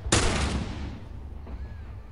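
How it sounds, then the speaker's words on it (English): A single loud rifle shot in the game Grounded cracks sharply up front, then fades into a rumbling decay with faint echoes afterward. "Why are you using rifle?"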